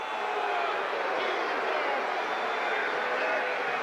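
A basketball arena crowd in the 1976 ABA Finals, Nets against Nuggets in Denver, keeps up a steady, dense roar of booing throughout, broad and unbroken.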